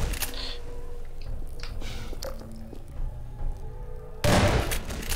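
Gunfire in the Half-Life 2 mod Necrophobia, a horror zombie shooter: scattered weapon shots and impacts within a dense in-game soundscape, ending in one loud, heavy burst.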